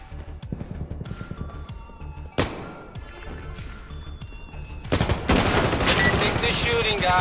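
Gunfire in the video game Insurgency Sandstorm: sharp single shots and rapid automatic bursts, with heavier, denser fire erupting in the final seconds, loud and close.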